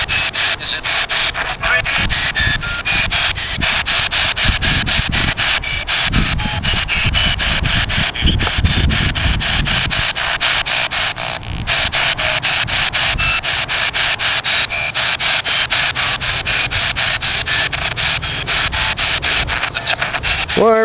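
Ghost box radio sweep: a loud, continuous hiss of static chopped by rapid station-scanning clicks, with brief fragments of broadcast voice flickering through the noise for the whole stretch.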